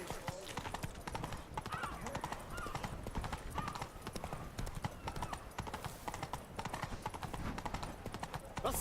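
Horse hooves clip-clop steadily in The Witcher 3 as a mount walks on, a continuous rhythmic beat beneath game dialogue and ambient sound.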